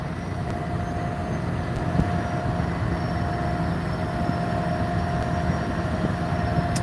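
Vehicle tires rolling over rumble strip lines grooved along the side of a road, a steady, loud, low droning rumble heard from inside the car, continuous with no pauses and no talking.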